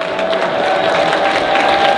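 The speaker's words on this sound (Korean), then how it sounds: "우리 정강훈 목사님 사모님에게 다시 한번 큰 박수를 보내주시기 바랍니다." A large church rally crowd applauds a pastor's wife, a continuous wash of clapping with some cheering and a steady tone running underneath, loud and sustained.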